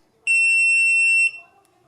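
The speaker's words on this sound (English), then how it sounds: "the lock will beep and the LED will flash red" A single steady electronic beep from a Kwikset SmartCode 888 smart door lock during a factory reset, clear and close, holding for about a second before cutting off.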